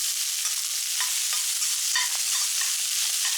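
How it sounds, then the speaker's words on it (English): Eggs and rice stir-frying in a pan over high heat, a loud steady sizzle with the occasional scrape and clack of a spatula stirring, close up and uninterrupted. "Throw in the eggs. Then quickly throw in your rice. Keep stirring on high heat."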